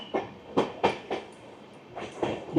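Sairang Kolkata Express passing the Ranaghat crossing cabin, with a series of loud rhythmic clattering wheel bursts, several close together, then a quieter gap before more clacks.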